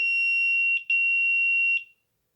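A Motorola Metro pager (FLEX) gives a continuous electronic alert tone. It is a steady, piercing beep that sounds close and loud, breaks once briefly and stops after about two seconds.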